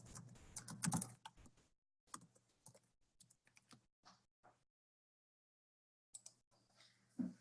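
Login details being typed on a computer keyboard: quick clusters of close key taps, then a silent pause and a few final strokes, with no speech.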